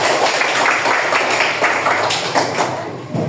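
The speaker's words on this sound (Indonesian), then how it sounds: "Tepuk tangan untuk kita semua." Classroom applause from a group of students, a dense burst of clapping that runs steadily for a few seconds and thins out toward the end.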